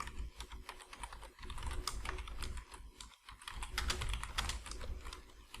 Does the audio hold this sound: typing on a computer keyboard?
yes